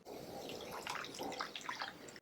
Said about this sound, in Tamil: இப்போ நம்ம இதில் கொஞ்சம் தண்ணி ஊற்றி அதை ஊற வச்சுக்கலாம்